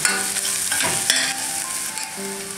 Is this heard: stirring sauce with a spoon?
yes